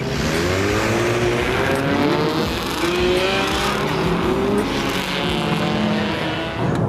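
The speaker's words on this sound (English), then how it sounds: "The signal comes, and the group moves to the next race spot." A pack of street racing cars pulls away together at night, several engines droning and revving at once in a dense, sustained roar that stays loud throughout, with a faint tire squeal.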